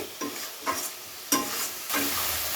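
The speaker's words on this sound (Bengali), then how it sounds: "সমস্ত মশলাকে খুব ভালো করে কষিয়ে নেব।" Spiced masala fries in oil as it is stirred, steady sizzling crackle broken by several scraping spoon strokes against the pan, close and moderately loud with no voices.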